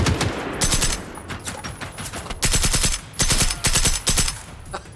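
AK rifle fire in a robot-fighting video game with a 1980s high school girl: several loud, close bursts of rapid automatic shots, separated by short pauses, with no speech over them.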